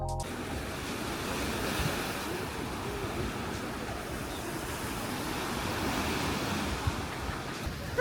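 Sea waves wash steadily onto the Odesa shore, a continuous broadband roar of surf mixed with wind buffeting the microphone, with no talking.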